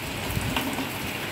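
Heavy rain from super typhoon Mawar pours as a steady, dense hiss, with no breaks and no voices.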